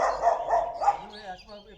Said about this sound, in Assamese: মোক দেখি কেনেকুৱা হেৰি কৰিছে কুকুৰ পোৱালিটো, চাওক।